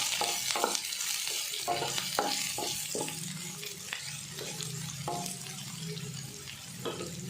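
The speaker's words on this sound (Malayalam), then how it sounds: "ഇനി ഇതിലേക്ക് സവാള, ഇഞ്ചി, പച്ചമുളകും കൂടി ഇട്ട് കൊടുക്കുന്നുണ്ട് കേട്ടോ. 1 മിനിറ്റ് ഒന്ന് വഴറ്റിയാൽ മതി." Onion, ginger and green chili sautéing in a pan for a cabbage carrot stir-fry, a soft continuous sizzle broken by repeated scraping stirs of a spoon, close and fairly quiet.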